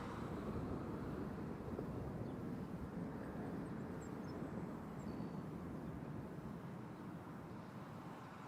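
An airplane landing at Toronto Pearson airport gives a steady, loud roar of engine and rushing air that holds for several seconds without a break.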